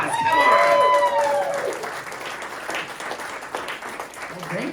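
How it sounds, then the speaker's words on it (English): A comedy show crowd breaks into applause that swells at first and then tapers off, with a voice talking over the clapping. "Get a bigger applause. Come on."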